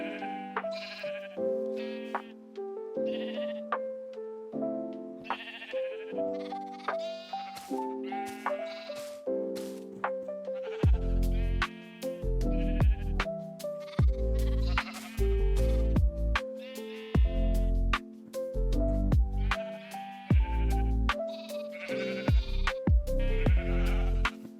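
Flock of sheep bleating in a blocky wool-farm building video game, many repeated wavering calls overlapping one another throughout, loud and close, joined midway by thumping low percussion.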